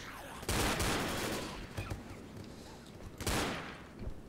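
Gunfire in the zombie shooter Left 4 Dead aimed at a Smoker's tongue: two loud bursts of rapid shots with scattered cracks between, heard close and without clear speech.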